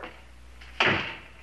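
A door swings with a brief creak and then shuts with a single solid thud that decays over a moment, close by in a quiet indoor room.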